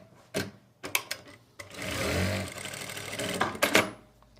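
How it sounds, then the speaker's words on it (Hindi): A sewing machine stitches a seam around fabric for a wrap palazzo trouser, first in a few short clattering starts and then in a steady, close, loud whir that ends in more brief bursts. "हम ये पूरे राउंड में आसन की सिलाई लगा लेंगे।"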